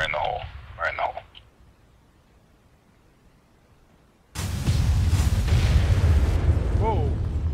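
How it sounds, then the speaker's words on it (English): Armed technical trucks stored inside a compound blow up at once. A sudden loud blast erupts after a few quiet seconds with brief voices, then a sustained roaring rumble follows and a voice sounds underneath. "that thing blew up, like, bigger than the normal explosion"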